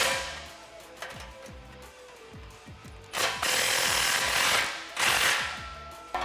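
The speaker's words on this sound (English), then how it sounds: "so now we can tighten down this clamp" A ratchet tightens an exhaust clamp on a Mustang GT cat-back exhaust, giving a rapid series of close clicking strokes, broken by two louder bursts of broadband noise.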